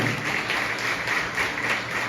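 Church congregation applauding at a Sunday service, a steady, dense wash of many hands clapping that fills the whole moment without letting up.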